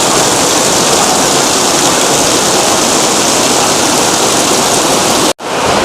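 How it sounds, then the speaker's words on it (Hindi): A waterfall on a river near a Koteshwar Mahadev temple pours in a steady, loud broadband roar with no talk, cutting off abruptly near the end. "यही झरना जो मैं अभी तक दिखा रहा था,"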